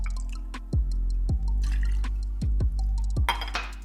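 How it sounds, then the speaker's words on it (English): Fresh-squeezed lemon juice pours into a cocktail shaker as a run of separate drips and splashes on a low steady hum, ending in a brief fuller splash. "Next, add 1 ounce of fresh squeezed lemon juice."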